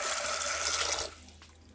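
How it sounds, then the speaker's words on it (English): Water pours briefly from a tap into a container of peas being washed for Jamaican rice and peas, a close splashing rush that stops after about a second, leaving faint drips. "Pour in some water to wash my peas."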